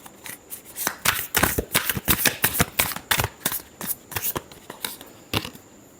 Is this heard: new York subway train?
no